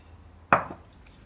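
Sliced avocado pieces dropped into a bowl, giving one short soft thud with a brief clatter as they land, close and alone in a quiet kitchen.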